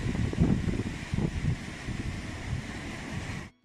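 Strong wind buffets the microphone on an open beach near Måløy, Norway, a loud continuous roar with gusty low rumble and possible surf beneath, cutting off abruptly near the end.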